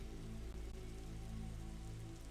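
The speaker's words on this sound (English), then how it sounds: "The rain gets a little bit more muffled and becomes more drips and metal in the distance." Steady rain spatters dense and even throughout a scene of an audio drama, a continuous wash of drops with no voices.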